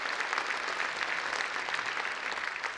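A large audience at a university distinguished alumni awards ceremony applauds honored freshmen, a steady, moderately distant wash of clapping filling the hall for a few seconds without speech.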